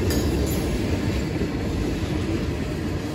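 Steady loud rumbling rail noise with a constant rushing roar and faint high squeal, a freight train rolling by close without pause.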